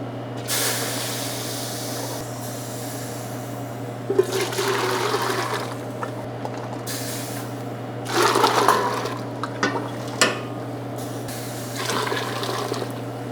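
Water runs into a pot for lobster stock, a steady rushing pour close by with a few louder surges and splashes over a constant low hum, no talking.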